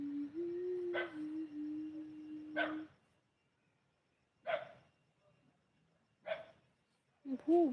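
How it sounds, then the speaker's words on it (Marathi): Dogs bark in short, sharp, separate woofs, fairly close, with quiet gaps between them. A steady hum runs under the first few barks, and a final yelping bark comes at the end. "भुकाय लागले कुत्रे"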